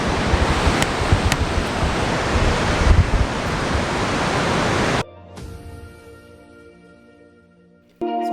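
Shivanasamudra waterfall on the Kaveri river roars with a loud, close, broadband rush for about five seconds, then cuts to a much quieter scene before the roar briefly returns at the end.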